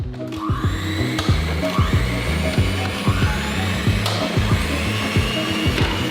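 Electric mixer whipping egg whites in a large bowl for giant doughnut batter, a loud close motor whine with a regular rhythmic knocking of the beaters.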